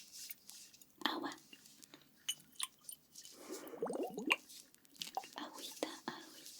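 Water-filled massagers squish and slosh softly during an oil massage, with wet squelching bursts under quiet whispering, close and intimate.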